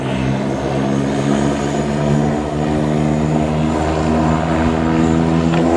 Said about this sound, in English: Art Goebel is approaching with his plane